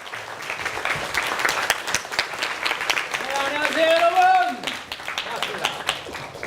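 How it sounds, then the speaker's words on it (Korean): Loud audience applause welcoming a professor onto the stage at a lecture on Dante. The clapping is dense and sustained throughout, with a voice calling out over it partway through. "큰 박수로 초대하는 겁니다"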